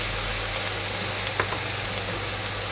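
Spinach and egg stir-fried in a pan, seasoned with soy sauce, oyster sauce and ground pepper: a steady, even sizzle with faint scraping stirs.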